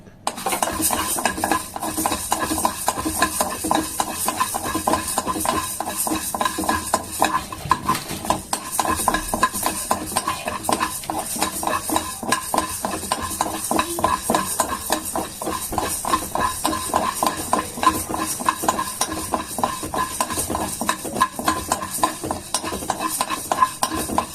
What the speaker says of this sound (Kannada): ಹಸಿ ವಾಸನೆ ಹೋಗೋ ತನಕ ಹುರಿಬೇಕು.